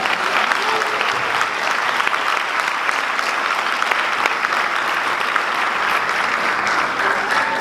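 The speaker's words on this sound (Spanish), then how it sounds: "Denle un aplauso a Cristo." A church congregation gives a sustained, loud round of applause during a Sunday service, an even, unbroken wall of clapping from many hands lasting throughout with no speech on top.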